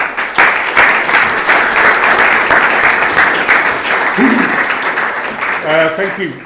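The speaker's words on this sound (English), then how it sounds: "Can I just ask you if you could hold the applause?" Loud, dense applause from a large crowd fills the whole stretch, steady clapping with a few voices mixed in near the end.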